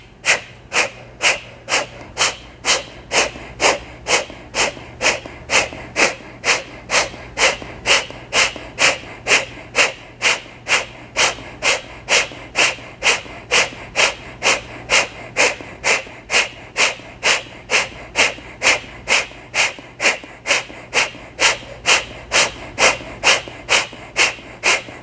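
Yoga breathing with a straight spine: steady, audible inhales and exhales repeat in an even rhythm for the whole stretch, close and airy, with no talking.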